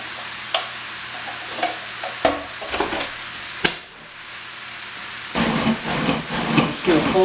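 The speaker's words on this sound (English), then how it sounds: "You guys hear that meat sizzling?" Ground meat sizzles and frying crackles in a pan while chili is being made, with intermittent stirring clatter and a few sharp utensil knocks, growing louder and denser toward the end; no voice over it.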